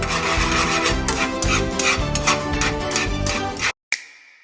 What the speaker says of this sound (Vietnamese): Vân sẽ bào đu đủ và cà rốt để làm đồ chua